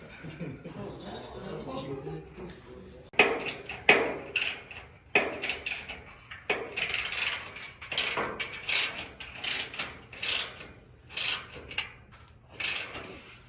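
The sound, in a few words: bolting a roof rack onto a Ford Transit van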